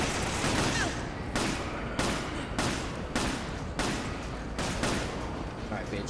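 Resident Evil 5 gameplay gunfire rattles in rapid bursts, about five sharp volleys separated by brief pauses, loud and dense against background game noise.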